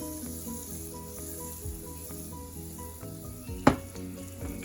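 Butter sizzles in a pan over medium-high heat, a steady soft crackle with a faint hiss, and a sharp clatter lands near the end.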